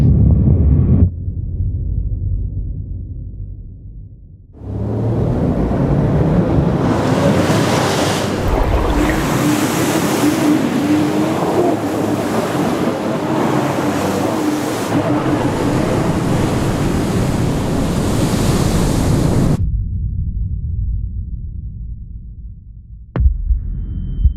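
Ocean surf at Jeffreys Bay, South Africa, a loud, steady roar of breaking waves that swells in after a few seconds, holds for about fifteen seconds, then drops away to a quieter low rumble.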